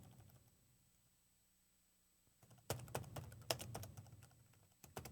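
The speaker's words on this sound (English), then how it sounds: "I simply cannot type." Typing on a computer keyboard during C++ programming work: after a quiet stretch, a quick irregular run of close, crisp key clicks and taps, with a brief pause before a few more strikes.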